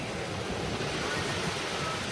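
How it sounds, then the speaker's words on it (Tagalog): Strong wind gusting outside at a limestone cave campsite at night, a continuous broad roar with no breaks, steady and fairly loud, with no one speaking. "Grabe ang hangin sa labas"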